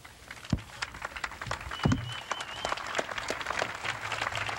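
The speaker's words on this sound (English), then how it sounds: "if everyone would join me, not just in a round of applause, but a standing ovation for Walt Gill" A standing ovation at a retirement event: moderate, fairly distant applause with scattered sharper claps, continuing steadily throughout.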